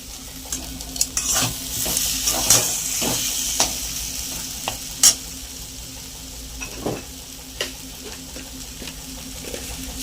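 Curry spices for a prawn and taro flower dish are stirred and fried in a pan, giving a soft continuous sizzle broken by repeated sharp scrapes and knocks of the spatula, close and moderately loud.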